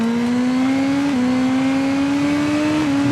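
In TT Isle of Man 2, a race bike's engine screams at a constant high pitch, stepping down briefly twice as gears change, loud and uninterrupted, no one talking.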